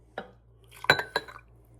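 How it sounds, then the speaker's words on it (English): A metal ladle scoops French onion soup from a cooking pot, making two or three close, clinking knocks against the pot with short gaps between them. "Ladle in the soup."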